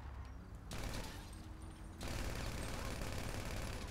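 Sustained automatic gunfire in GTA Online, a dense continuous burst that grows louder partway through, with no talk.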